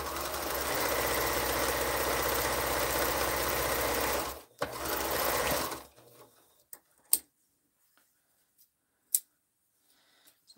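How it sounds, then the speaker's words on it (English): A sewing machine joins quilt fabric pieces in a steady, continuous run for about six seconds with one brief break, followed by near-silence broken by a few small clicks and snips. "I'm going to sew this piece to here so that I can make this longer"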